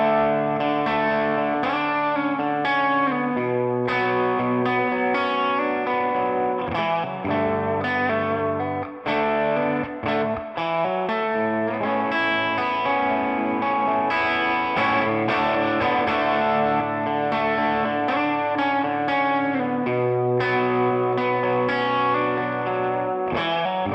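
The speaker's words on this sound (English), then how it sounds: "Now let's hear that bridge pickup one last time before going to the gig test." A distorted Novo Serus J electric guitar on its bridge pickup plays steady chords and riffs through chorus and echo effects, loud and continuous with a brief dip midway.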